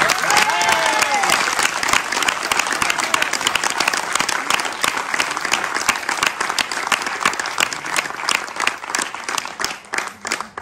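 A cabaret audience at Montpellier's La Bulle Bleue gives loud, sustained applause for a stable act called Bijou, dense clapping filling the room for about ten seconds, with a brief voice and faint cheering near the start.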